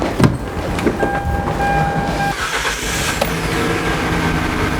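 An LPG car engine runs at a steady idle with the bonnet open, giving a constant close mechanical hum and whir with a few faint clicks and thin tonal whines, without speech.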